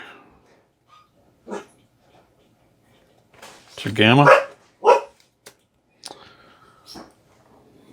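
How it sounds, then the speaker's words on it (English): Dog barking during a tabletop card game session, a few sharp barks that break out alone and then continue in short bursts between quiet gaps, close and fairly loud, with a person speaking briefly. "Dog is barking for no reason."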